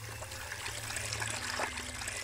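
A faucet running in the video game The Bad Kids, a steady soft trickle of water continuing alone at low volume.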